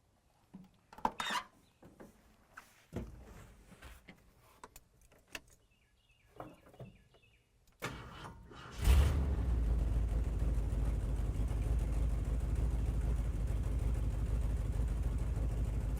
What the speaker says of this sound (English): And I went and started the truck.